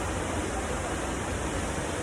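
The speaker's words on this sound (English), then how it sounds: "This is called the Noorie Waterfall." Steady, dense rushing roar of the Noorie Waterfall pouring into a natural pool in Haripur, Pakistan, a continuous broadband wash of falling water heard up close with no pauses or voices.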